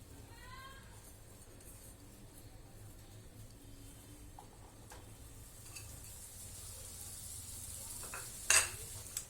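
Khoa (milk solids) frying in hot ghee for a green peas halwa makes a faint, quiet sizzle under soft stirring scrapes, with a brief utensil clink near the end.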